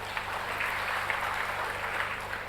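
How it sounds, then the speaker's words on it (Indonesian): A seminar audience applauding for Pak Happy, Ir. H. Heppy Trenggono, at a business mastery event: a short burst of continuous, moderately loud group clapping with no talking over it. "oke tepuk tangan buat Pak Happy"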